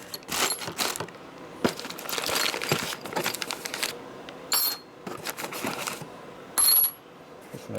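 Someone rummages through a torn bag of bolts from a 1972 Harley-Davidson Sportster 1000cc ironhead engine rebuild. Close, bright metallic clinks and rattles come in irregular bursts with brief pauses between.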